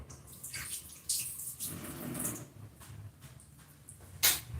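An egg is washed under a running tap, with a steady rush of water splashing nearby and a few louder spurts as it hits the shell and sink.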